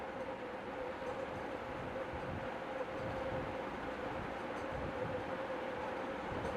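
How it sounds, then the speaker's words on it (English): A Gold Line ceiling fan running, with its loose canopies rattling faintly: a steady, even motor hum with a thin tone and a soft continuous rattle underneath, no voices. "You're also hearing those canopies rattling a little bit too."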